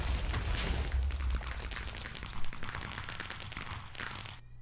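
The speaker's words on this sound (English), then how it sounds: "Them fireworks really loud." Fireworks exploding in the Minecraft video game, a rapid run of sharp crackling bursts over a low rumble, loudest near the middle, then cutting off at the end.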